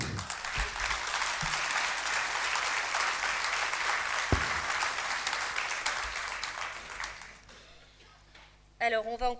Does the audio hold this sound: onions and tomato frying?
no